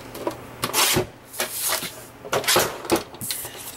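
Paper being trimmed to 4 inches for handmade Christmas cards, a series of short scraping, rubbing strokes in an uneven rhythm, close and fairly quiet, with no talk.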